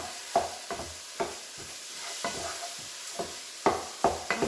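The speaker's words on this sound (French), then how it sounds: "vous faites revenir le bœuf" About 400 g of minced beef browns in a pan for courgette lasagna, a soft continuous sizzle punctuated by regular spatula scrapes and stirring knocks, close-up and without speech.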